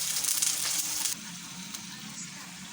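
Chicken sizzles and fries loudly in a pan, a dense steady hiss that drops to a softer sizzle partway through.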